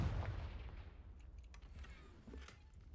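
A spell explosion in a Harry Potter video game, a deep booming blast that decays into a rumbling tail with a few faint crackles.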